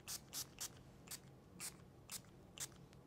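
Indie Lee Coenzyme Q10 spray toner is misted onto a face in about seven quick, close, airy pumps with short gaps between them, the bursts uneven in spacing and no voice over them.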